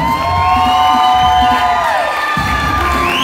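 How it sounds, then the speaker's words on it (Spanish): Guests at a wedding reception cheer and whoop loudly over steady music, a dense crowd roar filling the room during the couple's entrance. "Que se escuche ese fuerte aplauso."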